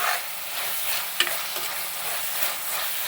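Fish molly stirred in a pan in a Kerala-style kitchen: a soft, steady sizzle with a couple of light scraping knocks of the spoon, close by and without speech.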